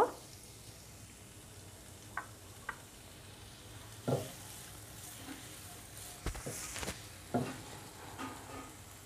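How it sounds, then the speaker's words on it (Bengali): Onions frying in a couple of tablespoons of oil over medium heat for a coral fish curry, with a soft steady sizzle broken by several sharp spatula scrapes and stirring knocks in the pan. "পেঁয়াজগুলো আমি তেলের সাথে নেড়েচেড়ে মিশিয়ে নিচ্ছি।"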